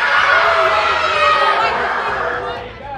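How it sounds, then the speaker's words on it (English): A crowd at a youth football night yells, chatters and cheers in a steady, loud wash that tails off slightly at the end, with no clear claps standing out. "Man, they're yelling and clapping."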